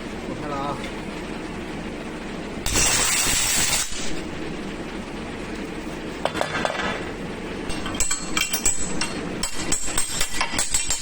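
An RSN 2500I stud welding gun fires in a workshop: a sharp burst of crackling noise followed later by a series of quick clacking, clinking hits, with a low background hum between them.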